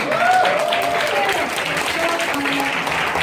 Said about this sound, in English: Let's give them a loud applause again.